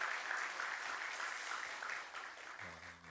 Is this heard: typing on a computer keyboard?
no